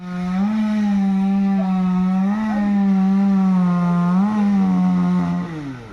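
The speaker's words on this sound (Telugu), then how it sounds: "ఇప్పుడు అన్నీ కట్ చేశారు మనకైతే కటింగ్ మిషన్తో" A wood-cutting machine runs steadily through a load of neem logs during loading, its loud, continuous motor drone rising and dipping in pitch as it bites into the wood, close by with no talk.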